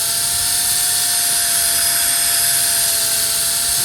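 A power sander works wet over scratched paint on a Mini Cooper, giving a loud, steady high whine with a constant tone and no pauses or speech.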